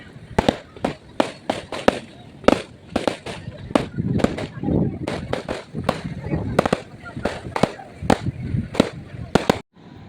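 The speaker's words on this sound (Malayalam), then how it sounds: "അമ്പലത്തിൽ വെടി പരിപാടി നടക്കുകയെന്ന് തോന്നുന്നു ഒരു ഭാഗത്ത്" Rapid, irregular volleys of sharp firecracker bangs at a temple festival, some close and loud, crackling on and off with voices murmuring underneath.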